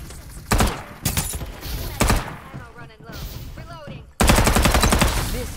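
Gunfire in the video game Farlight 84 arrives as several loud rapid automatic bursts, including a sustained stream near the end, mixed with thuds and a player talking in between.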